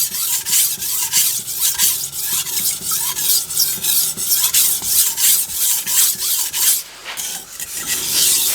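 Shun kitchen knife bevel being sharpened on a fine-grit whetstone, steady rhythmic rasping strokes back and forth, close and fairly loud, with a brief pause near the end before the scraping resumes.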